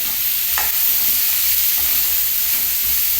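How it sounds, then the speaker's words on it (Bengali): Vegetables for dal fry in a pan, producing a loud, steady sizzle throughout with a few faint stirring clicks and no voices. "এই আমার সবজিটা বেশ লাল লাল করে ভাজা হয়ে গেছে"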